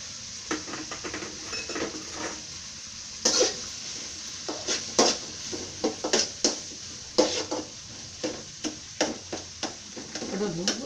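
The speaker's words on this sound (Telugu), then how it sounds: "ఇదిగోండి గరం మసాలా పొడి వేస్తున్నాను" Garam masala powder goes into a pan while gongura rice cooks, with light clinks of a spoon against the pan, stirring scrapes and a soft sizzle in irregular taps.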